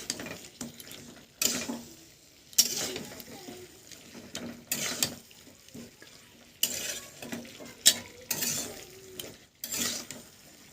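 Chicken curry, a Bengali chicken jhol, being stirred in a pot with the lid off. Repeated rasping, ratchety scrapes of the spoon come in bursts over a soft sizzle.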